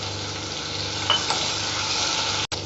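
Steady sizzling of curry leaves and coriander sautéing in a pan for ven pongal, a continuous crackling hiss with a faint scrape of stirring partway through.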